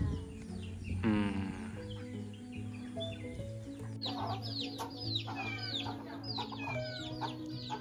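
Chickens cluck and chirp in a village, a hen's drawn-out call early on followed by a run of quick, close clucks and peeps over a low background hum.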